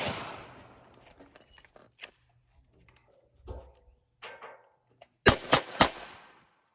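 KA-15 rifle test-fired with 55 grain rounds: after quieter handling noises, three sharp, loud shots ring out in quick succession, then fade.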